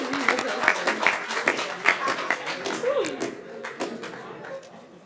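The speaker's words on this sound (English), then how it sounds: "So how about another round of applause for those skits?" Applause at a Tuskegee University Army ROTC awards ceremony after cadet skits, a steady patter of clapping mixed with voices and cheers from the audience, moderately loud and fading slightly toward the end.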